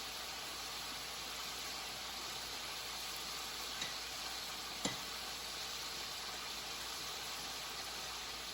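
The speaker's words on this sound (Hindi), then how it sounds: "इसको जलाना नहीं है हमने, ऐसे ही हल्की आंच, मीडियम आंच पे इसको ऐसे ही भूनना है।" Lamb karahi sizzles and roasts in a pan over medium heat, a steady faint frying hiss with a couple of brief clinks from stirring.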